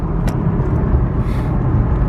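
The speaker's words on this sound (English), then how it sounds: "Right now, I'm driving my Q50." An Infiniti Q50 cruises along the road, a steady, close, rumbling drone of engine and tire noise from inside the car with no talk.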